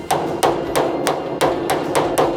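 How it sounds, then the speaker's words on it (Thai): A hammer strikes a steel chisel to split the seam of a Honda S500 hood, seven sharp metallic blows at a fairly even, brisk rhythm, loud and close with no talking. "ขณะที่เหล็กมันกำลังร้อนใช้สิวนะครับสิวเลยแล้วก็ค้อน"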